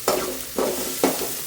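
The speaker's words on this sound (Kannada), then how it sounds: "ಸ್ವಲ್ಪ ಚೆನ್ನಾಗಿ ಫ್ರೈ ಮಾಡಿಕೊಂಡ್ರೆ ಆಮೇಲೆ ಟೊಮೊಟೊ ಹಾಕ್ಕೋಬೋದು." Chana dal, urad dal, green chilli, curry leaves and onion fry in hot oil, crackling steadily under four regular stirring scrapes spaced about half a second apart.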